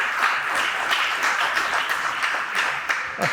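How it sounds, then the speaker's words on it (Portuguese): A church congregation applauding together, a dense, steady burst of many hands clapping with no break. "agora dá um aplauso ao Senhor Jesus"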